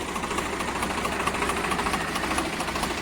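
A Massey 1035 or Swaraj tractor engine runs steadily close by, a continuous throbbing diesel idle with rapid regular knocking pulses and no voices.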